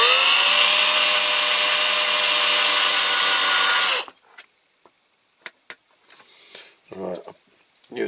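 A power drill with a poor bit runs loudly and steadily for four seconds into a metal rivet on a Dinky Toys Bedford TK model, then stops abruptly, leaving scattered clicks, taps and a brief voice nearby.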